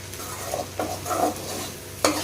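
Okra (vendakkai) fries in a pan with a soft, steady sizzle while a spoon stirs it, giving a few distinct scraping strokes and a sharper clack near the end. No one talks.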